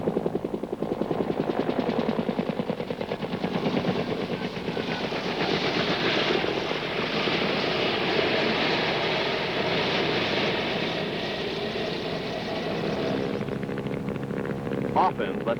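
AH-1G Cobra gunship helicopter in an autorotation landing, a continuous loud rotor and engine drone with rhythmic blade chop, steady throughout and easing slightly near the end.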